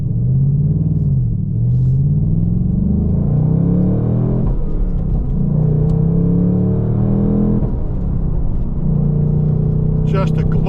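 A 2025 Ford Mustang Dark Horse's loud, deep engine rumbles and revs repeatedly, pitch climbing and dropping in waves, close and continuous throughout.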